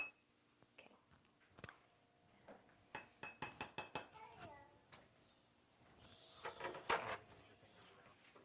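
A metal spoon clinks and rattles among dishes and cutlery during a search through a medicine cabinet, with a quick run of sharp chinks and a louder clatter later, close by.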